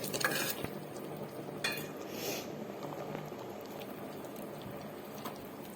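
A pot of puthina pulao with meal maker bubbles at a steady boil, a soft continuous simmering hiss with a few clinks and scraping stir sounds near the start.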